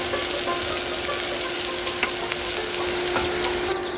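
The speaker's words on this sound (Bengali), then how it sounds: "এখন আরো কিছুক্ষণ ভাজবো এইভাবে, আরো কিছুক্ষণ ভাজবো" Beef pieces for a Bengali beef bhorta fry in a pan as they dry out and brown, giving a dense, steady, close sizzle throughout with occasional small crackles.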